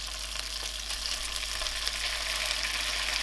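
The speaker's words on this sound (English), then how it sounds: "Just need to fry this for about 20 seconds." Curry paste frying in a pan sizzles with a steady, bright hiss, close and continuous, with faint crackles throughout.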